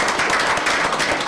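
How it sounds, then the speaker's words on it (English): Brief applause for students at a school board of education meeting, a dense, steady patter of many hands clapping in a room, with no voices. "I just want to give you guys a round of applause"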